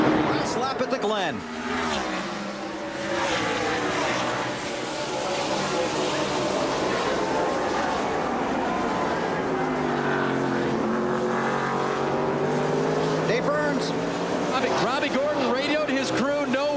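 The No. 20 NASCAR Cup Series race car roars under power at the Brickyard, a steady loud engine drone holding throughout with rising and falling pitch, while a commentator talks over it.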